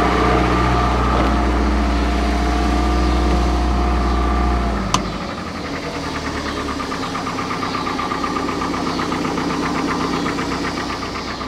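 Engine of a 1968 Starcraft Islander boat fitted with Petronics electronic ignition, running loud and steady near 1800 RPM with a strong low hum, then abruptly dropping to a softer, uneven idle with rhythmic ticking.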